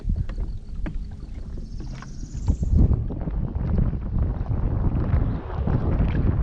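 Petrol outboard motor on a fishing boat running out on open water near a submerged brush pile, a steady low drone with wind and water noise throughout.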